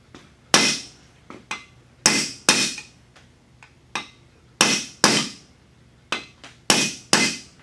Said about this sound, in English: you're going to use a cross pattern and pound them the rest of the way down